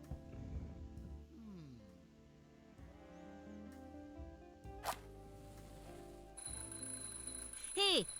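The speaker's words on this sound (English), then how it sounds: "I'm, just testing the smoke detector." A smoke detector alarm in The Journey Down video game, heard as faint, high electronic beeping that sharpens near the end over quiet background music and soft game sounds.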